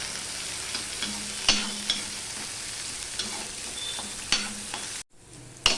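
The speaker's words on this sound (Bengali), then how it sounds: "আমি ভালো করে রসুন পেঁয়াজটাকে ভেজে নেবো" Garlic and onion with chopped green chilli fry in a pan, a steady low sizzle broken by sharp clinks of a spatula stirring against the metal, with a brief cut near the end.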